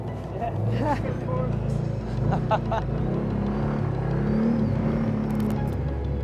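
A vehicle jolts along a very bumpy track to a tree-planting site in treeless land, its engine rumbling steadily and loudly throughout with rattles and bumps, while people talk over the noise inside.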